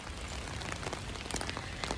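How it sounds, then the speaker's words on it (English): Steady rain falls outdoors while someone is out walking, a dense even hiss of drops on surfaces with a few brighter close patters and splashes standing out, and no voices. "I'm out walking in the rain"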